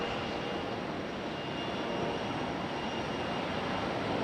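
Aeromexico airliner jet engines at Raleigh-Durham airport, a steady broadband roar holding at even loudness, heard from a moderate distance with no voices.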